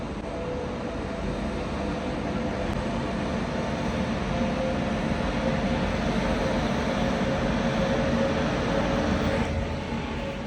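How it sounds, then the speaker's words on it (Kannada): A train runs along a railway track right in front of a house, giving a steady, close rumble with faint tonal whine that holds for the full stretch without any talking. "You can see the train."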